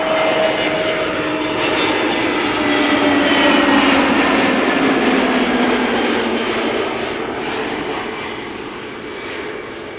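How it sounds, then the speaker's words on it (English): An Airbus A320neo arriving from Newcastle passes on approach to land at Amsterdam Schiphol, its jet engines a strong whine and roar that builds, peaks near the middle, then eases off as it moves away, with no voices. "A320 Neo coming in, arriving from Newcastle."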